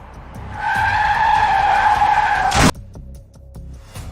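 A car skids hard to a stop in front of another car: a loud, sustained tire squeal lasting about two seconds, cut off by a sharp thud, then quiet scattered knocks.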